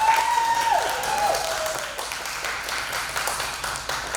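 An audience at a pinup contest applauds and cheers for a contestant, with steady clapping throughout and a brief whistle near the start.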